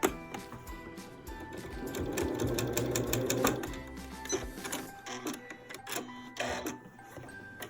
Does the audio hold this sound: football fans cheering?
no